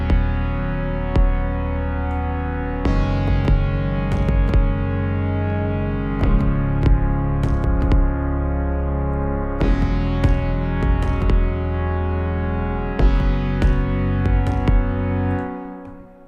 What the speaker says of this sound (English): Changing the pitch a little bit, adding a little distortion.